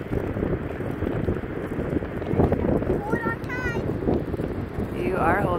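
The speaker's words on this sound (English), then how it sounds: "it's getting windy." Gusty wind buffets the microphone with a constant low rumble during kite flying, while voices call out briefly over it.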